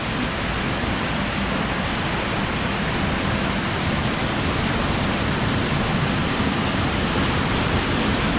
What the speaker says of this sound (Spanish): El poder del agua, señores, miren. Ahí está el molino andando.